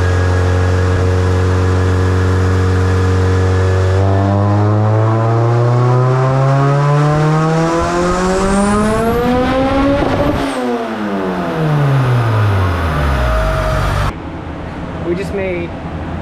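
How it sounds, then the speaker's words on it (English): A turbocharged Honda Civic EG hatchback on a dyno at about 33 pounds of boost roars loudly through a rising fourth-gear pull, pitch climbing steadily, then drops off with a brief shift-like break before fading to idle. "If it spins, we're going to do a fourth gear pull, and that'll probably be about it."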